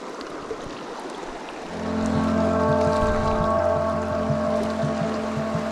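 A small mountain creek in Colorado on a summer evening, flowing with a steady close wash of water, joined midway by a low droning hum that sits under the stream.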